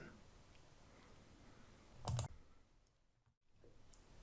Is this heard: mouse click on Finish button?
yes